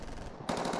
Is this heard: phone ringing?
no